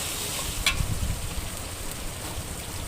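Onions fry in oil with ginger garlic paste added, cooking until brown, while chicken is made with bottle gourd. A steady soft sizzle fills the clip, with a brief clink of stirring near the start.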